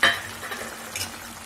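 Fried okra stirred into a boiling masala in a kadai, a close sizzling bubble with a scraping stir at the start and softer stirring swishes after, no talk.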